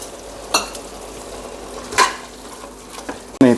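Ground spices, pulao masala and turmeric frying in a pan, with a steady low sizzle, a few soft scraping stirs and a sharper clatter of utensil at the end.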